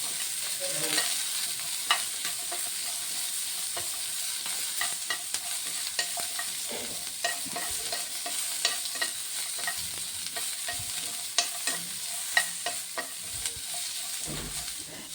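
Green chillies, onion, garlic and ginger fry in a pan for a capsicum chutney, with a steady sizzle and frequent spatula scrapes and clicks throughout, close and moderately loud, with no voice.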